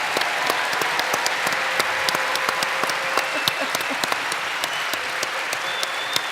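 Applause from a live event audience for two speakers, a steady wash of clapping with many sharp individual claps popping out close by, continuing evenly for about six seconds.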